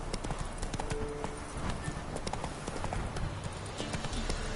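Roach the horse gallops in The Witcher 3, with a steady, close clip-clop of hooves running over a busy, noisy game soundscape.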